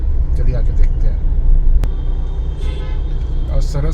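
Congested road traffic jam near Gandhi Maidan in Patna during a fair and book fair, a loud continuous rumble of engines with scattered short horn toots, under background voices.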